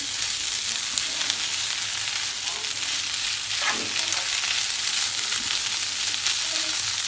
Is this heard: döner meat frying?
yes